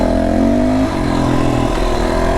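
A close, loud FSE300R motorcycle engine hums and revs with shifting pitch, easing down briefly then climbing again, a steady mechanical drone without speech.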